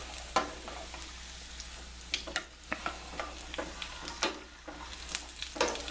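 Mozzarella sticks sizzle and crackle in hot oil in a pan, a steady close frying hiss broken by scattered sharp pops and spits, with no one talking.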